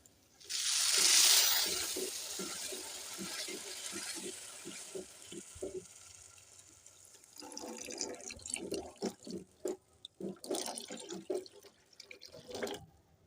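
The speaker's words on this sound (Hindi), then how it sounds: "अब इसमें हम थोड़ा थोड़ा करके पानी इसमें ऐड करते जाएंगे" Water is poured gradually into semolina halwa cooking in ghee over a medium-low flame, with a loud splashing pour at first, then softer bubbling and scraping sounds that rise again later.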